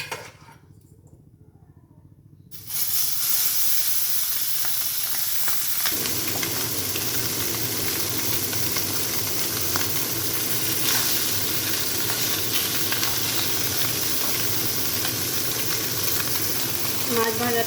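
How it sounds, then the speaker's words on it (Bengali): Fish fries in a pan of hot oil. After a few quiet seconds a loud, steady sizzle starts and crackles without a break to the end, close by and with no voices. "মাছটা ভেজে নিব।"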